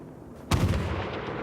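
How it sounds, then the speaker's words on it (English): Artillery fire in the video game Battlefield 1: a single heavy boom hits abruptly after a quiet moment, then rolls on as a loud, sustained low rumble. "Enemy coordinates have been sent to our artillery."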